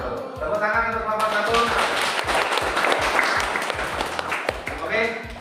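A classroom audience applauds a presenting student group, a dense burst of many hands clapping that swells after a second and carries on steadily for several seconds, with a voice talking over the start.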